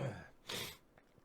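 A single short, breathy cough or throat-clearing burst, close and fairly quiet, followed by faint rustling.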